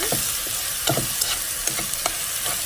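Ground pork frying in a pan for rice noodle soup, stirred with a utensil, giving soft scraping strokes and light clicks over a steady low sizzle, close and fairly quiet with no talk.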